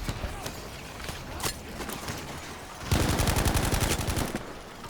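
Sturmgewehr 1-5 rifle in Battlefield 5 fires a loud, rapid automatic burst of evenly spaced shots, preceded by scattered distant gunfire and battlefield noise.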